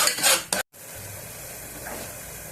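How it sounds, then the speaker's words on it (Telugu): Onion paste frying in a pan for a chicken curry, with a steady close sizzle and a few loud stirring scrapes at the start, a brief silent break, then continuous even frying. "కొంచెం వేయించుకున్నాము. ఉల్లిగడ్డ పేస్ట్ కొంచెం పచ్చి వాసన పోయేంత వరకు"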